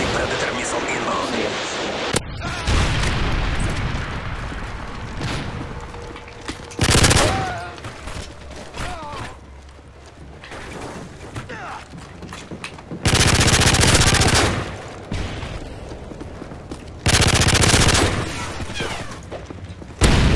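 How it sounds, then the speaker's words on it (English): Online multiplayer gunfire and explosions in Call of Duty Modern Warfare 3, with a Predator missile strike among them. Loud bursts of automatic fire and heavy booms stop and start, under game voice callouts and a player talking. "Predator missile inbound."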